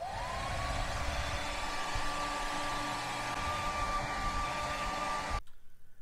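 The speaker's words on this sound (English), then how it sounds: "All right, so I just tested the hairdryer." A hair dryer set to high heat blows on a 3D print with a loud, steady whooshing roar and a thin whine that rises as it spins up, running for about five seconds before cutting off abruptly.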